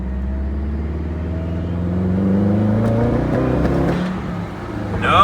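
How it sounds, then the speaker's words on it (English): A Subaru car with a misfire and boost cut pulls hard in second gear, a loud, close engine rumble rising in pitch, then faltering and breaking up near the end. "we're gonna do a little second gear pull and see what happens."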